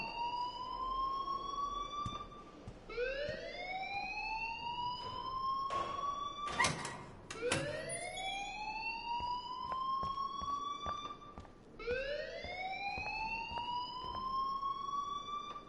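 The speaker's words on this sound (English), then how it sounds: "please turn off that alarm since that's your job" A loud wailing alarm in the video game Life is Strange, rising and sweeping repeatedly in long cycles, with a few sharp clatters partway through and no talk.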